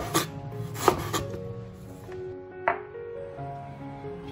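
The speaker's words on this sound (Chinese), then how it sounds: "再切几片姜片" A knife slices ginger on a cutting board, giving a few sharp, distinct chops spaced irregularly over a quiet kitchen background.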